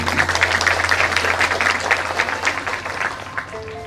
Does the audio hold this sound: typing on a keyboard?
no